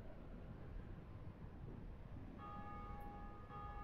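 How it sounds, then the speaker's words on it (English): Church bells tolling in the video game Dark Souls, a steady sustained ringing tone that emerges partway through over a constant roaring wind-like background, with no talking. "More bells."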